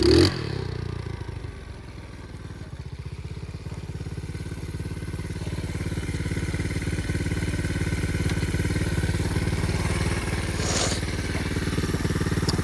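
A 125cc pitbike motorcycle engine runs on a ride, a continuous buzzing drone with rattling clatter, close and loud, swelling slightly as the engine revs over time, with no talking.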